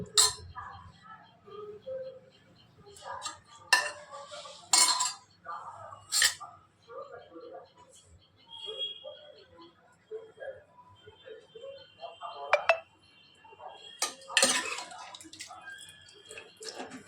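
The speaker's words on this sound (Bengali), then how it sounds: "এইভাবে সবটা তরকারি তুলে নেব" Cauliflower curry being scooped from a cooking pot with a metal spoon, bringing repeated clinks and scrapes against the pot, wet sloshing and someone talking between the strokes.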